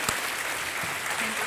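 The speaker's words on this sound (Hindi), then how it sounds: "तालियां बजती रहें दीदी के लिए" Studio audience applause at a televised quiz show, a steady dense wash of clapping that fills the whole moment without a break.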